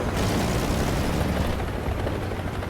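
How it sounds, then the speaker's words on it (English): A helicopter hovers close behind in the War Thunder ground battle game, a loud, steady rotor roar with dense broadband noise filling the whole stretch, no talk over it. "apparently there was a helicopter behind me, like just hovering, moving one"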